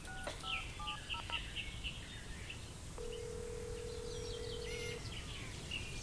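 A phone number is dialed in the adventure game Geheimakte Tunguska, a quick run of faint electronic keypad tones followed by a long steady tone, over quiet ambience with bird chirps.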